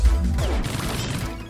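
A steam explosion in the CrossCode video game gives a loud crashing burst, then a rough hissing wash that fades over about a second, with another thump right at the end.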